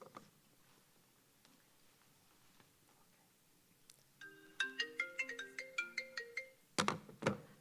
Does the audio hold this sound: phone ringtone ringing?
yes